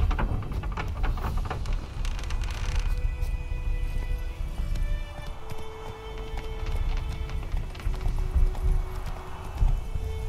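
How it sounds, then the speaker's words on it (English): Horses in The Witcher 3 video game: steady clip-clop hoofbeats of a running horse, fairly close, under game music and ambient hum with no one talking. "Lots of horses and wolves."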